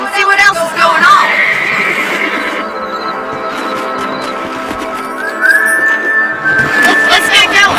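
Horses whinny loudly in the Red Dead Redemption video game, a sharp neigh near the start and another rising whinny later, with faint hoof clops and a voice underneath.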